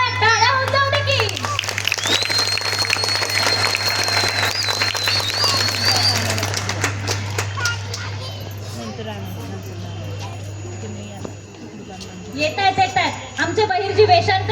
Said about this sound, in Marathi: मावळा आला, टाळ्या होऊन जाऊ दे की.